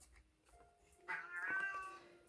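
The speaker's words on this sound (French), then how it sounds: "il y a le chat qui n'est pas content" A cat meows unhappily in a quiet room, one drawn-out, moderately faint cry with low background hum and no talking.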